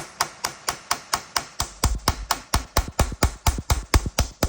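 A hammer strikes a center punch in a steady, rapid series of sharp metallic knocks, about four per second, close and loud, the blows growing heavier midway through, loosening a security bolt on a steering column ignition lock.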